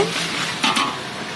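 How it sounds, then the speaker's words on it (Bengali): Ginger-garlic paste sizzles in hot oil with browned onions as it is stirred, a steady frying hiss with a brief scrape of the spoon against the pan midway. "পেঁয়াজটা বাদামি কালার হয়ে গেছে আদা রসুন একসাথে মিক্স করে বাটা দিয়ে দিচ্ছি এটাকে ভালো করে নিয়ে ছেড়ে পাক করে নেব"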